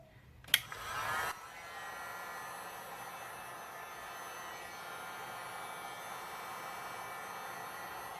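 A small blower pushing air over resin and metallic pigments, a sharp click and a brief louder burst, then a steady faint whooshing hum that runs evenly to the end.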